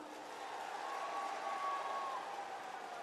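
A large crowd at an outdoor political rally and farmers' gathering claps steadily, a faint, distant, even wash of applause with no voices over it.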